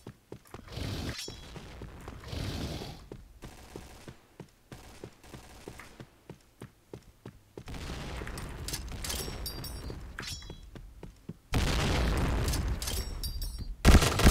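Gunfire in the Point Blank shooter game, many sharp, close shots in irregular bursts and rapid runs, with booming impacts and a loud blast near the end, no talk.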